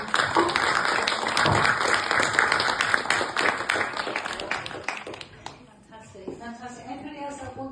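Audience applause at a leadership cohort celebration event, a dense roomful of clapping that swells loudly and then thins out and fades, with a voice speaking as it dies down.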